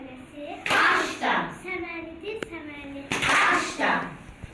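Children clap in rhythm during a Novruz song, with sharp bursts of claps between the young voices singing.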